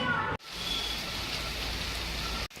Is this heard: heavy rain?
yes